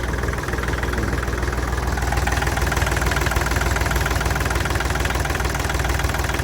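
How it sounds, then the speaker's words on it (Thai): A Kubota L3608DT tractor with its original engine idling close by, a loud steady diesel chug with an even knocking rhythm throughout, no voices. "เครื่องไม่ไอนะครับ เครื่องเดิมไม่ไอนะครับ"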